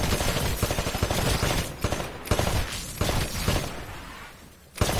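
Rifle fire at shooting-range targets in the Titanfall video game, sharp rapid shots in quick clusters with brief pauses, loud and close, ending in a final burst.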